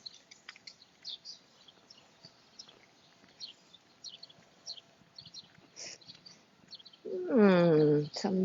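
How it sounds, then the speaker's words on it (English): Small birds chirp and tweet intermittently in the background, faint and scattered, before a louder voice-like sound rises near the end. "Some new birds in town."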